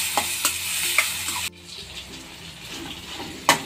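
Tomatoes frying in a pan, a close hiss with utensil taps and scrapes, an abrupt drop to a quieter sizzle midway, then a sharp knock near the end.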